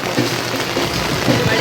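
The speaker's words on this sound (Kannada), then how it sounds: "ಮಳೆ ಜೋರು ಬರುತ್ತಿದೆ" Heavy rain falls hard and close during a monsoon day in Mangaluru, a dense, loud, unbroken hiss of drops pounding surfaces with no pauses.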